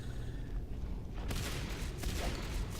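Shotgun blasts ring out in a video game match, a couple of loud sharp bursts in the second half over a constant busy game ambience.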